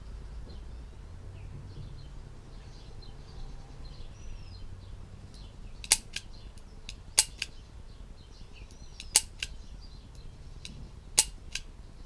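A Smith & Wesson 586 revolver dry-fired in double action, with four crisp metallic clicks spaced about a second apart over a quiet background.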